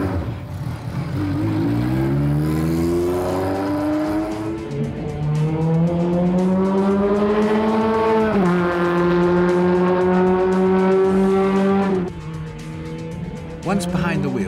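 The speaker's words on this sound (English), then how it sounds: "Once behind the wheel, Hakkinen was immediately down to business, lapping even faster here than his highly rated and more experienced countryman, JJ Leto." A Formula One race car screams past on a circuit, its engine pitch climbing through gears with a loud sustained whine, dropping briefly at a shift and again as it brakes near the end.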